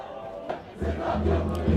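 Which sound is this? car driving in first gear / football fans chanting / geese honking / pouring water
football fans chanting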